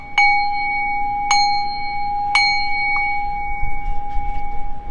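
Three bright chime strikes ring out about a second apart, each with a clear sustained tone, followed by a softer fourth tap, a crisp notification bell effect over faint background noise.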